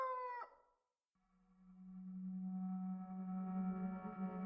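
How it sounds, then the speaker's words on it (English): A rooster crows as a radio drama sound effect, with a short clear call, a brief silence, then a long sustained low drone. "a rooster crowed."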